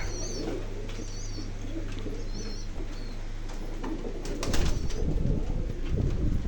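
Pigeons on a pigeon farm coo repeatedly in soft, rolling phrases close by, with a few chirps above and a steady low hum; rustling and shuffling noises pick up near the end.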